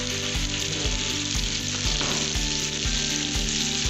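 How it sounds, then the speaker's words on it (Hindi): Two chopped tomatoes hit a hot pan and fry for a pizza topping cooked without an oven, giving a loud, steady sizzle with rhythmic scraping knocks from stirring. "और इसमें हम अब शामिल करेंगे 2 चॉप किए हुए टमाटर। ये हमने टमाटर डाल दिए।"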